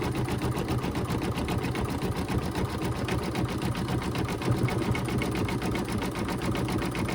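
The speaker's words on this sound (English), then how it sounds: "this is going to stitch around the 2 applique pieces" An embroidery machine stitches around two applique pieces on an Easter table runner, a continuous fast rattling hum that stays steady and loud throughout.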